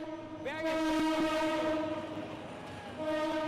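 A train rolls along the tracks with a loud, sustained horn blast, a low rumble beneath, and a voice talking over the passing cars.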